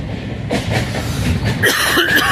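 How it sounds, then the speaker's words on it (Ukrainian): A tram passing on a street in Kharkiv, a loud, close rumble with rhythmic wheel clatter and a rising metallic squeal toward the end. "Зараз на трамвайчик"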